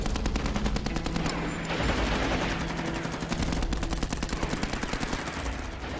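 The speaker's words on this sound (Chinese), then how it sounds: "随后传来了一阵机枪扫射的声音" Sustained machine gun fire strafing a street protest march, a dense rapid rattle of shots continuing steadily and loudly throughout with no talk.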